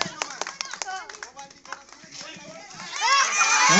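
Village children clapping their hands during an outdoor game, quick bursts of claps mixed with excited chatter and shouting, rising into louder cheering toward the end.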